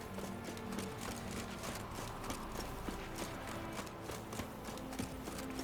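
A horse gallops in The Witcher 3, its hooves pounding out a quick, steady clip-clop rhythm close by, alone and without speech.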